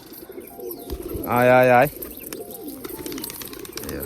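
Pigeons coo in a single loud, clear burst lasting about half a second, heard near and in front. A person calls out to the birds, and other voices and background noise continue around the call.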